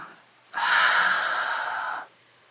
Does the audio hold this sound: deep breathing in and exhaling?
yes